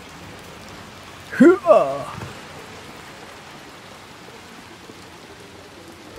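Steady rain falling in the video game Little Nightmares 2, a faint continuous hiss running throughout, briefly covered by a short shout from a player.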